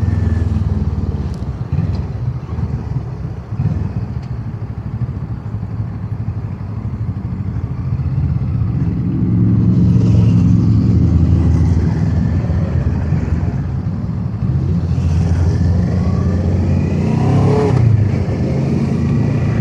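A Kawasaki ER-6f motorcycle ridden at night in rain and wind, its engine a steady low drone that rises in pitch and loudness as it accelerates midway, with a constant rush of wind and road noise.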